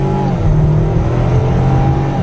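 A car engine revs up loud and close, a steady strong drone rising gently in pitch over a couple of seconds.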